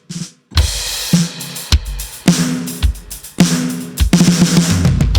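A processed digital drum kit from a mixed drum bus plays a punchy groove of loud kick and snare hits with bright cymbal wash. The pattern is steady and close, with no voices over it.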